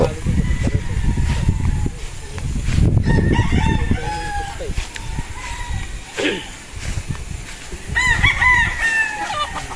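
Battle stag roosters crow repeatedly in rising, drawn-out calls, several birds overlapping at close and middle distance, with clucking between crows and a noisy farmyard background.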